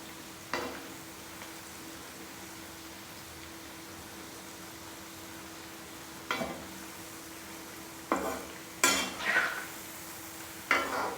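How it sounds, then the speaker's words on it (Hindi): Sweet puas made from jaggery and wheat flour fry in hot oil with a soft, steady sizzle, broken by a few sharp clinks and scrapes of a utensil against the pan, close up and without speech. "ये देखिए इस तरह से ये पुए हमारे सिक रहे हैं इसमें ऑयल में"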